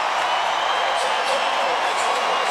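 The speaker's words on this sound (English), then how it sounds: "And listen to this crowd." A football stadium crowd at the 2015 Division II Football Championship, Northwest Missouri State against Shepherd, makes a steady, dense roar of many voices at halftime, with the home fans enjoying a 24-0 lead.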